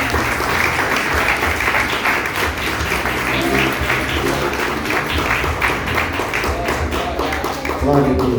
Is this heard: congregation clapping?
yes